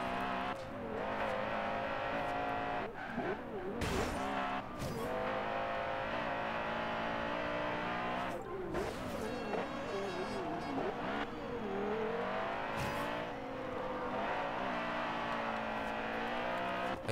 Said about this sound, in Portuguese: vamos sentir esse som magnífico do motor